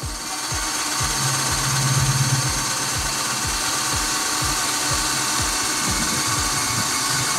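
A power drill bores holes through plastic pipe for a DIY pond filter, its steady whine broken by repeated rhythmic ratcheting clicks and a brief louder pitch rise midway, close and continuous without talk.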